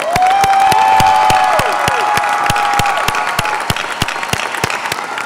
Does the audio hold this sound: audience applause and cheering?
yes